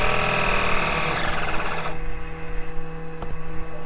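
A Cessna 310 piston engine runs in a flight simulator game, a steady mechanical drone with a rhythmic pulsing, heard first with the cabin door open, then muffled and quieter once the door closes and seals.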